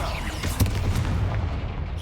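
A Confringo blasting spell goes off in Hogwarts Legacy, giving a single heavy boom-like burst with a low rumble that lingers briefly in a dense game soundscape.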